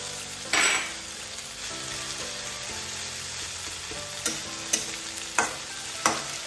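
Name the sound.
taro stems frying on low flame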